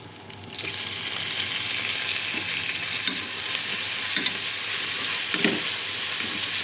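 Onions fry in hot oil in a pan with mint and coriander for pulao, sizzling steadily while a spoon stirs with occasional scraping knocks.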